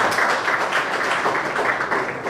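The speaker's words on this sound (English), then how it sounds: "Please, a round of applause for yourself, everyone." A student leaders' summit audience claps together at the end of a morning session, a brief, steady wash of applause heard up close without any speech.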